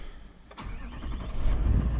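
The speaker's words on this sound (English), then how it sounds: "it fires up. It sounds pretty good, the diesel." A 2010 Toyota Landcruiser GXL with a twin-turbo V8 diesel cranks briefly and fires up, settling into a rising, rumbling idle, close and clear, over about two seconds.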